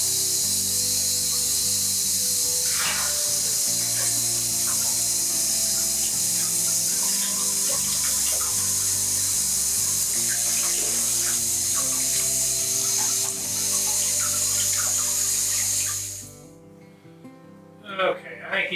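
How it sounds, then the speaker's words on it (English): Tap water runs in a steady, loud hiss over a brined turkey at a sink, with background music beneath, continuing for most of the stretch before cutting off near the end into brief handling clatter. "Gonna do a little rinse on him."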